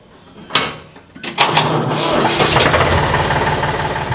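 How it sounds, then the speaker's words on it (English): A tractor engine cranks with a couple of sharp clanks, then catches and settles into a loud, steady rumbling idle close by. "The tractor started."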